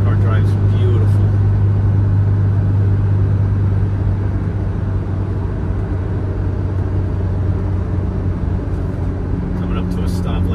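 A 1983 Mercedes-Benz 240D diesel sedan with a 4-speed manual cruising at about 60 mph, giving a loud steady low engine and road drone from inside the cabin throughout.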